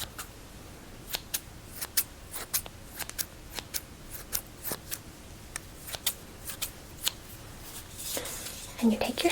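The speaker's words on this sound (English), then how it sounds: "let me cut the end of this guy off really quickly." Small scissors snip string repeatedly in sharp, irregular clicks, close up and fairly quiet, ending with some rustling handling.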